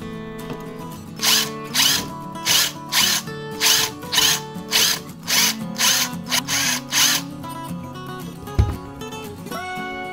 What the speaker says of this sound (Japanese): 大きい方の穴を8ミリドリルが通りやすい大きさに広げます。